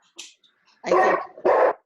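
A dog barks twice, loud and close, in quick succession, with a short faint yelp just before the barks.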